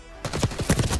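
Rapid bursts of gunfire from a weapon in a beta video game, a dense automatic rattle starting abruptly and continuing loud and close with uneven pulses.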